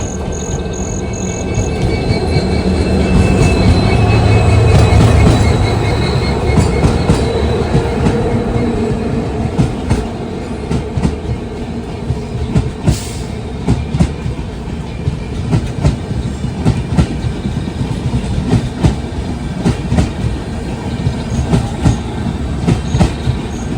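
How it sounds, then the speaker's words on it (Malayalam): The Panchaganga Express runs along the Konkan Railway in monsoon, heard from on board as a loud, close rumble with rhythmic clickety-clack of wheels over rail joints and occasional squeals throughout. "പഞ്ചഗംഗ എക്സ്പ്രസ് കണ്ട് വരുന്നുണ്ട്"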